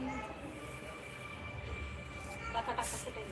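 A train rumbles past at a steady, moderate level beneath nearby conversation, its drone holding throughout, with a brief louder burst near the end.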